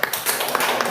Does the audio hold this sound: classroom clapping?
yes